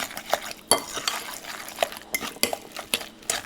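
Guacamole being stirred and beaten in a bowl with a spoon, giving a quick run of close scraping clinks and taps against the bowl, with no talk over it.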